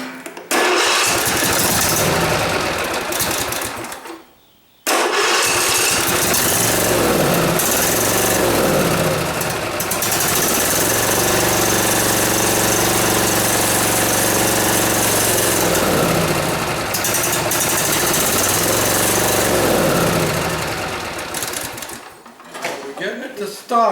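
The engine of a Husqvarna riding mower with a faulty fuel supply cranks and starts, then runs at a rough idle. It cuts out briefly near five seconds and again near the end, with a person talking over it.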